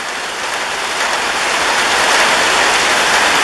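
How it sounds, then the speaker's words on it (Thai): Heavy rain pours down in a loud, continuous hiss, a dense wash of drops hitting surfaces close by. "มาแล้วครับฝนตกแล้วครับฝนตกแล้วครับ"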